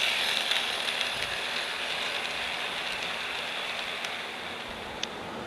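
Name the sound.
N scale model freight train running on layout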